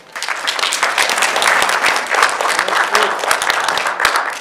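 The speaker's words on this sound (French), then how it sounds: "Il faut applaudir, hein." An audience at a French Resistance commemorative event applauds warmly, a dense and loud run of clapping that holds steady throughout, with a little crowd murmur underneath.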